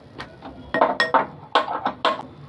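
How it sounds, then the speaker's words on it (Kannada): A small cooking pan set down and shifted on a stovetop, several quick metallic clinks and knocks in an uneven run, close and moderately loud. "ಒಂದು ಪುಟಾಣಿ ನಾನು ಪ್ಯಾನ್ ಇಟ್ಕೊಂಡಿದ್ದೀನಿ."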